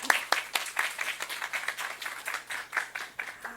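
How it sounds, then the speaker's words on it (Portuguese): A modest audience at a science talk applauds a speaker: distinct, fairly quiet claps in a loose, uneven rhythm continue for a few seconds. "Uma salva de palmas, né?"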